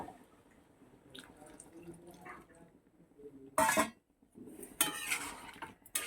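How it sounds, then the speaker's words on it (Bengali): Hot water poured into a pan of prawn curry with green jackfruit, two short bursts of splashing pour against quiet kitchen background. "এবার গরম জল করে রেখেছিলাম দেখো দিয়ে দিচ্ছি"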